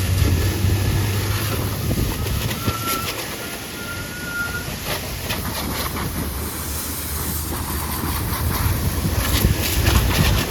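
Water sprayed over a scooter during a wash, a steady, close, broadband hiss running unbroken for the whole stretch with no talking.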